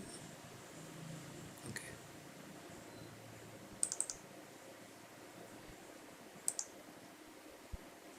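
A computer mouse clicks quietly while a website is being set up, with a few short, sharp clicks in small clusters over faint, steady room hiss.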